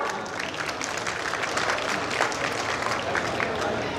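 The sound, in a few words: audience applause at a rally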